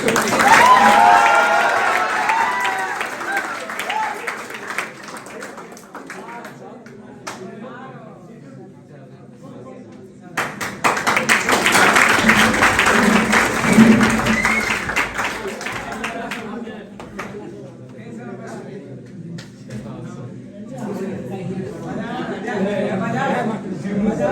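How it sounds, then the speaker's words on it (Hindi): An audience at a coaching class event in Motihari claps loudly in two bursts, a long opening round dying away, then a second strong wave of clapping with crowd chatter mixed in. "तो कस के बहुत तेज ताली बजाइए।"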